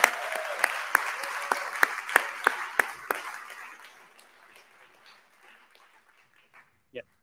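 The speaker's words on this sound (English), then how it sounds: "So let's just give them a big round of applause." Audience applause at a live talk event, loud clapping with a few sharp near claps standing out, fading over about four seconds into quiet with a brief sound at the end.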